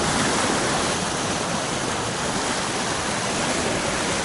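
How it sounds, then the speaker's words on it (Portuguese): Calm sea washing against the rocky shore of an Azores island, a steady, dense broadband wash with no distinct wave breaks, continuous and fairly loud throughout. "O mar está relativamente calmo."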